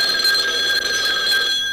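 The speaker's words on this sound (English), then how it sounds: "the phone rang." In a Yogi Bear cartoon, a telephone bell rings steadily and loudly, a continuous bright trill with no voices over it.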